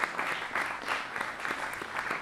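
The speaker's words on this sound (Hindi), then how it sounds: "एक बार ज़ोरदार ताली बजा दें बस" Audience clapping at an Urdu mushaira poetry gathering, a fairly faint, steady patter of many hands continuing throughout with no voices.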